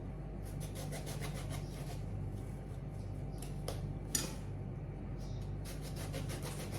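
A knife works through an eggplant, cutting it into thin slices on a board, producing faint repeated soft taps and rubbing strokes, steady and close, with no talk over it.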